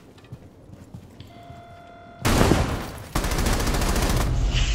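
Gunfire in Rainbow Six Siege erupts after a quiet stretch as a sudden loud burst, then a rapid automatic rattle continues close and steady.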